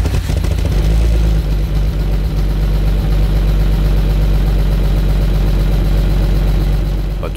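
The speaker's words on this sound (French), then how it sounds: "Voilà donc la sonorité à l'échappement avec un silencieux sommairement remonté." Alfa Romeo 156 GTA V6 exhaust with a roughly refitted, not fully sealed silencer, idling with a steady, loud low rumble and slight clatter throughout.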